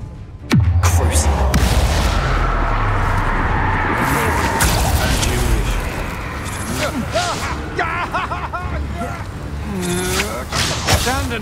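Bombarda blasting spell in Hogwarts Legacy goes off with a sudden loud boom and rumbling burst, followed by more combat clatter and shouted voices across the scene.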